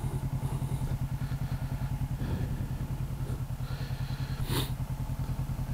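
A motorcycle with a new engine pulls hard under full throttle, its loud, steady rapid pulsing engine note held close for the whole stretch, with faint mechanical clatter riding on top.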